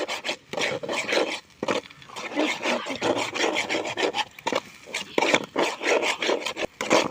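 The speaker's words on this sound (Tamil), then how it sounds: "இந்த 3 முட்டையை நல்லா கிண்டி விடணும்." Three eggs beaten in a bowl, a rapid run of close scraping and tapping strokes that keeps up an uneven rhythm with brief pauses throughout.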